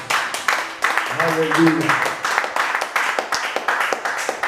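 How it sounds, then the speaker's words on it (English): Church congregation clapping during a worship service, a steady run of claps with sung or spoken voices mixed in, one voice holding a sustained tone near the middle. "If I were you, I would clap for Jesus."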